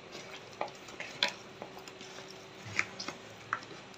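Pieces of tatkini and rui fish are worked by hand with turmeric, chili and oil, giving soft, wet squelching and scattered sharp clicks against a bowl, close and fairly quiet, with no talk.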